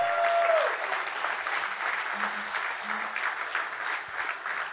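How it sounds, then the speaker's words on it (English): An audience at an insurance agents' conference gives the speakers a big round of applause, a steady dense wash of clapping that carries on throughout with no talking over it. "Give all our speakers a big clap."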